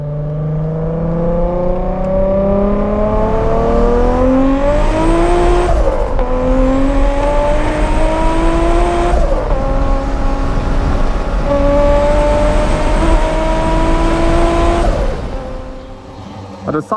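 A Yamaha Aerox 155 motor scooter engine, fitted with a swapped engine, runs steadily while riding on rural Thai roads, its pitch rising and dropping with throttle changes through gear shifts, loud and close, with no speech.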